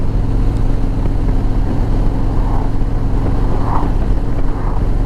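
A 2019 Harley-Davidson Street Glide Standard touring motorcycle rumbles along steadily with a loud, continuous low engine drone and wind noise while riding, with no breaks.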